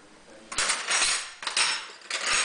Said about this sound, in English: Now, stir it up